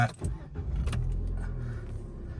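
A key-started 2018 Vauxhall/Opel Adam 1.2 Energised special edition: a brief jangle of keys, then the engine catches and settles into a steady, close, low idle rumble.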